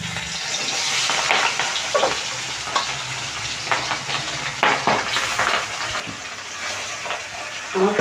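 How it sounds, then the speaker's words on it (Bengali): Pabda fish fry in hot oil in a kadai, a loud, steady sizzle and hiss with sharp spattering pops and crackles close by. "তেল তো গরম হয়ে গেছে। মাছ ছাড়বে এখন?"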